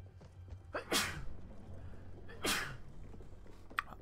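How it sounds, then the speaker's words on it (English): A single person sneezes twice during a video game session, two sharp explosive bursts about a second and a half apart over a low steady background hum, with a faint short sound near the end. "I'm gonna sneeze."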